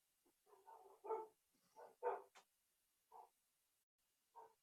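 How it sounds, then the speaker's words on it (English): Several short, faint dog barks and yips come in separate bursts with quiet gaps between them, heard from some distance and with no talking over them. "I don't know why my dogs are barking"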